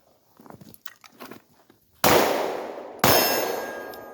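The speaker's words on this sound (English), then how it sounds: "Let's go to some live fire now." Two loud, sharp live-fire pistol shots from a Kel-Tec PF9 or Glock 43, about a second apart, each followed by a decaying echo, after faint shuffling sounds.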